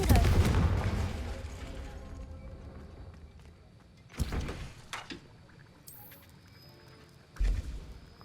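Confringo fire spell cast in Hogwarts Legacy: a loud blast opens, then two more sharp bursts land mid-clip and near the end over quiet game ambience.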